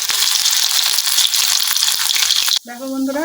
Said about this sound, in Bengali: রসুনটা তেলের মধ্যে ভেজে নিচ্ছি।